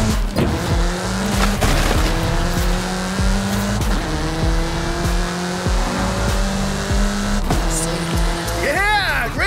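A car in the racing game Forza Horizon 5, driven fast through Mexican countryside: a loud continuous engine roar with rising and falling revs, tires squealing through turns, and a voice talking intermittently underneath.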